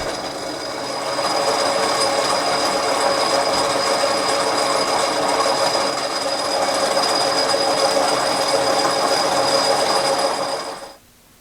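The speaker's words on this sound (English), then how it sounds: "I made an extension for my Forstner bit, and we're going to go all the way through with it" Steady drilling through wood with an extended Forstner bit on a 1917 Avey No.1 drill press, a continuous droning whir with a constant high whine that holds for about ten seconds and then cuts off abruptly.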